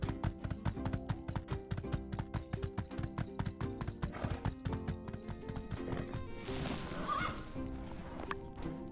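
A horse trots in the video game My Time at Sandrock, its hooves clip-clopping in a quick, even rhythm up close. Near the end a burst of rustling noise joins in briefly.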